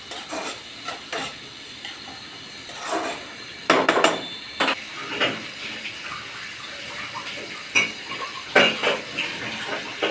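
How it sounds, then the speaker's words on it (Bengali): A spoon clinks and scrapes against a pan as onions are stirred in oil, with intermittent close metallic knocks and a soft background hiss, no speech. "তেল দিয়ে দিলাম, নাড়িয়ে দিচ্ছি।"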